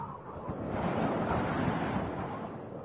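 Wind and storm over the ocean, with surf rolling in under steady gusting wind; a continuous broadband roar that swells slightly and holds at moderate loudness without any voices.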